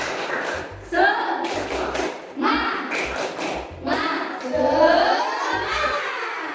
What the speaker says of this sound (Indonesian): sekarang tepuk semangat dulu ya